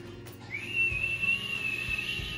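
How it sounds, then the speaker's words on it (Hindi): A woman's mouth-whistle starts after a short pause and holds a single bright, steady tone close by until the end, with only faint household noise beneath it. "आंटी सीटी मार के बताएंगे,"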